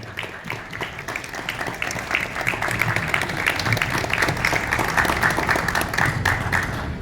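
An audience at an architecture event applauds a guest, the niece of Juan O'Gorman, with steady, dense clapping that holds at an even level throughout, fairly loud and filling the room.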